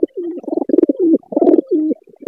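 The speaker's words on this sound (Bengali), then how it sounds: "এই যে ডাকটা কবুতরের" A pigeon coos close by in a series of deep, throaty rolling calls, several phrases in quick succession with short pauses between, loud and clear with no talk.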